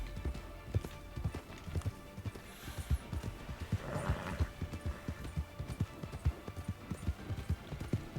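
Horse hooves pound in a steady, rapid gallop through the video game Red Dead Redemption 2, loud and close throughout, with a brief neigh rising midway over the rhythmic beats.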